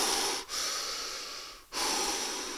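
Deep, rapid breathing under a cold shower, a close run of quick loud breaths over the steady hiss of falling water, with two short pauses.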